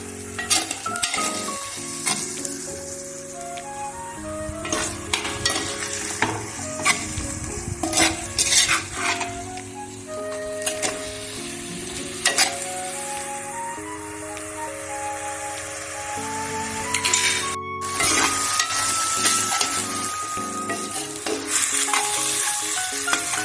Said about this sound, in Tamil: வெளியே கிண்டி விடலாம் ஃப்ரெண்ட்ஸ்